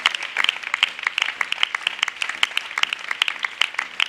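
Audience applause at a church gathering, a dense run of hand claps in a quick rhythmic pattern, steady and moderately loud from start to end.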